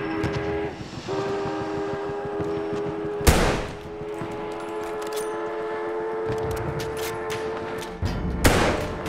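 Armored train in the Battlefield 1 video game, heard as a sustained mechanical drone with tonal hums and loud bursts of gunfire and explosions breaking through it.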